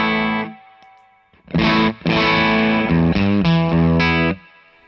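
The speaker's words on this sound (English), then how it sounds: "So next we're moving on to this boost pedal, like a solo boost" An electric guitar through a solo boost pedal adds a little grit and hair to a clean tone, playing sustained chords and short strummed phrases with brief pauses, close and fairly loud.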